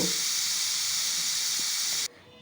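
A pressure cooker boiling dal lets out a loud, steady, close steam whistle-hiss that cuts off abruptly near the end, leaving a quiet room.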